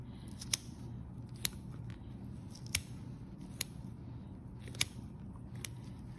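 Scissors snip through a kidney during a dissection, making several crisp, isolated cuts spaced about a second apart, close by and fairly quiet over a low background hum.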